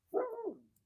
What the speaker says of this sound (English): I don't want a barking dog.